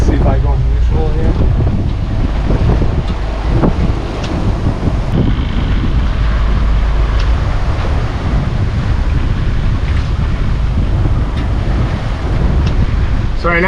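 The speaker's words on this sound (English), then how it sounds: "there's tons of wind" Strong wind roars steadily across the microphone while sailing a leaky boat with a working jib, a constant loud buffeting rush mixed with the wash of waves against the hull.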